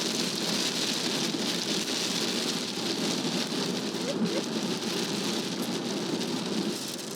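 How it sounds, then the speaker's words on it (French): Steady rain falling during a Ramadan evening, a dense continuous hiss of drops on surfaces, fairly close and even throughout with no talking. "avec le bruit de la pluie, je sais pas si ça on entend"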